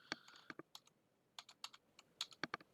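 Close, quiet typing on a computer keyboard in irregular bursts of crisp key clicks with short pauses between them, heard alone with no talk.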